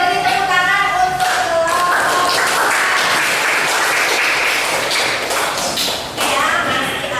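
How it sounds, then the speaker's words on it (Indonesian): Classroom applause from a group of students, with dense scattered claps filling the space at close range, alongside some thumps and a voice speaking over it. "beri tepuk tangan untuk"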